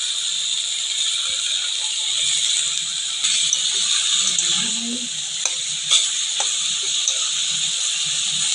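Peas and fenugreek leaves fry in a pan with a steady high sizzle and hiss, with occasional light scraping and clicks from stirring, and a voice is faintly present underneath.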